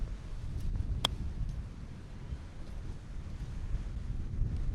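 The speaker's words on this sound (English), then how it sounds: "Doesn't help that the wind's blowing so damn hard either." Strong, gusting wind buffets the microphone outdoors at a golf chipping practice, a continuous low rumbling roar that swells and eases throughout, with no talking.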